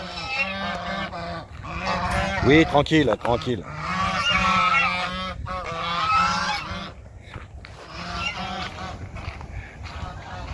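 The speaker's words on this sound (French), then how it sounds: "il y a des oies là" Several geese honk repeatedly nearby in noisy bursts, while a person speaks briefly over the flock.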